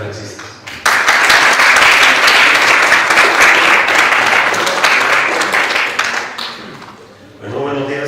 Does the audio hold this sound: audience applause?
yes